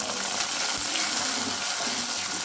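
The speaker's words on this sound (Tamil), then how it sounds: "சின்ன வெங்காயம் 10-15 சின்ன வெங்காயம் போட்டுக்கலாம்" Shallots, ten to fifteen small onions, frying in a pan while cooking fish soup, a steady dense sizzle running without a break and fairly loud throughout, no voices.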